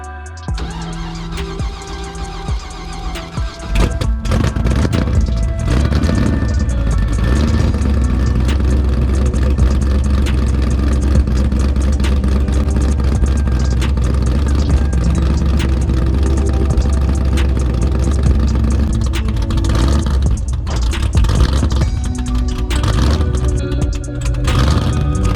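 An LS V8 swapped into a Nissan 240SX S13 with a new exhaust, starting up and settling into a loud, steady, deep rumbling idle throughout, with no talking.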